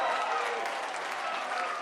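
Stadium crowd at a women's elite 1500m final in Montreal roars and applauds as the race finishes, a steady, broad wash of cheering and clapping with a commentator talking over it.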